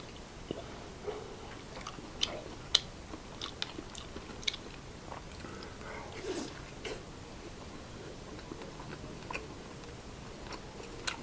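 Someone chewing fish roe, with soft bites and wet mastication clicks scattered over a faint steady background, close but quiet and with no talk.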